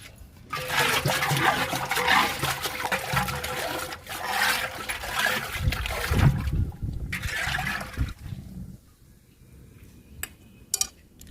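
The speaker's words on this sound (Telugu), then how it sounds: "ఈ గంట తీసుకుని శనగ చెక్క లిక్విడ్ని కలుపుతున్నాను" Water sloshes and splashes in bursts as oil-cake liquid fertilizer is mixed in a bucket, with some clattering, then settles to faint trickles near the end.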